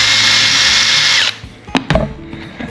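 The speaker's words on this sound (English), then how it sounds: "So my idea is I'm going to drill a hole" A power drill whines loudly and steadily as it bores into a hollow wooden block, then stops and is followed by a few knocks and clunks as the tool and block are handled.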